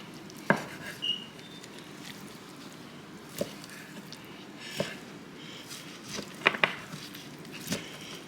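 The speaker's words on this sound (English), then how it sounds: "I'm just going to start chopping this up." A knife chops smoked beef from a 22-inch Weber kettle, giving scattered sharp single knocks at an uneven pace, fairly close but quiet, with no talking.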